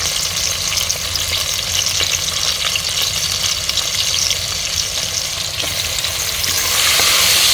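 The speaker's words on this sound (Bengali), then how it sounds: "চিংড়ি মাছটা একটু ভেজে নিব" Prawns frying in hot oil with onions, salt and sliced green chillies, a loud, steady crackling sizzle that runs unbroken and grows slightly fuller toward the end, with no talking.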